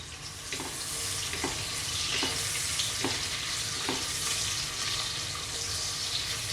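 Thinly sliced onions fry over a high flame toward golden brown, a dense continuous sizzle with a regular series of soft stirring knocks about once per second, close and steady, no speech.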